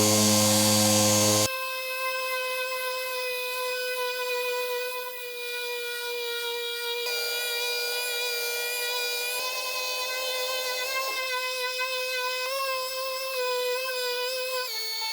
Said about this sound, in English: I'm going to feather this back with 220 on the finish sander.